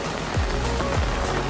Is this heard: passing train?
no